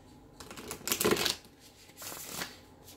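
A deck of tarot cards is shuffled close by, quiet riffling bursts with a sharper flurry in the middle and a softer one near the end.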